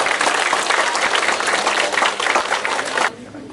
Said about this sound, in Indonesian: Tepuk tangan buat Arumi sekali lagi.